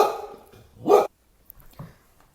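A dog barks once, a single loud close bark near the start, followed by a fainter short yip a moment later, with quiet room tone in between.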